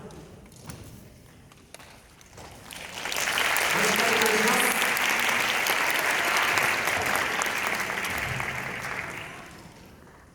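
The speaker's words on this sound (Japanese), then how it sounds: "精一杯踊りますので、拍手で応援の方お願いします。" An audience claps for a dance team at a fireworks festival. After a few seconds of voices, the applause rises into a loud, sustained wash of many hands, holds for about six seconds, then fades.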